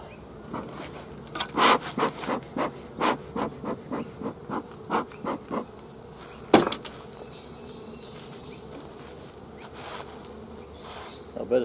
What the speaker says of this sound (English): Plenty of bees.